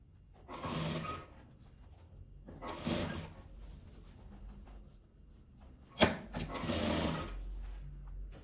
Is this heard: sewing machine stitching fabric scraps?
yes